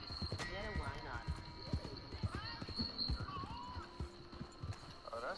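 Horse hooves clip-clopping in Red Dead Redemption 2 story mode, a steady close trotting rhythm with a whinny, under casual conversation between players.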